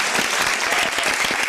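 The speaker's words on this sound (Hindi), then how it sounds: "एक मिनट पहले ताली मैं बजाऊंगा, उसके बाद आप बजाइए।" Studio audience applause at a talk show, dense steady clapping filling the whole stretch, loud and close with no voices over it.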